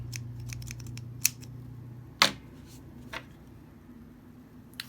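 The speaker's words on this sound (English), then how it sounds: "So first we'll cut the yarn." Scissors cutting crochet yarn, with one crisp close snip standing out over a low steady hum, plus a few faint clicks around it.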